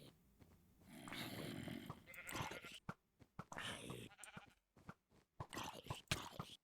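A sheep bleats in Minecraft, several wavering calls close by in short separate bursts, mixed with crunchy block and footstep sounds.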